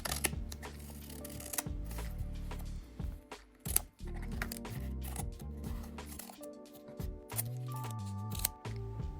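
Scissors snipping through a clear sticker sheet for a miniature crisp packet, a close run of crisp irregular cuts with brief pauses between snips.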